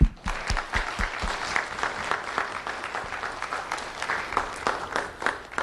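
Sustained audience applause at a Lee County Sheriff's Office student recognition event, dense steady clapping from a crowd filling the whole stretch with a few sharper nearby claps.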